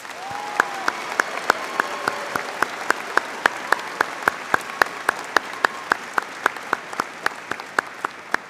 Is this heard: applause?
yes